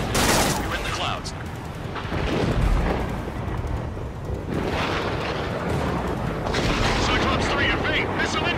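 Missiles and gunfire in the Ace Combat 7 jet combat game: dense, rumbling bursts of explosions and cannon fire that swell and fade across the stretch, mixed with game audio and radio chatter.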